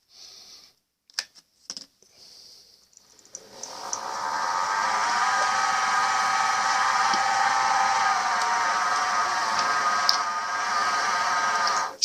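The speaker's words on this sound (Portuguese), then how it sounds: "Vou fazer o furo inicial com uma broca de início" Lathe drilling an 8 mm starter pilot hole into a shaft, a few brief clicks and knocks, then a steady whining hum that settles into an even, sustained drone close by.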